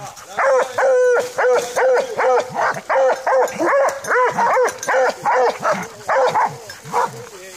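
Griffon Nivernais hunting dogs bark and whimper close by after a wild boar hunt, a rapid, continuous run of loud, rhythmic yelps and whining barks with little pause between them.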